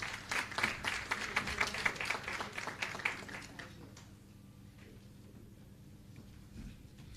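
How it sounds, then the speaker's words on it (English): Attendees at a credit union's annual general meeting give a round of applause, moderate clapping for about four seconds that quickly fades to a quiet room with faint background murmur. "We give them a round of applause for that."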